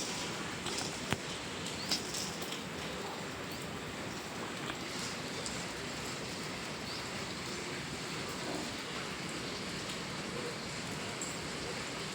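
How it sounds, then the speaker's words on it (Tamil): Steady rain falls on and off, a continuous broadband hiss of drops that stays even and moderately loud throughout, with no voices. "மழை விட்டு விட்டு பெஞ்சிக்கிட்டே இருக்குது."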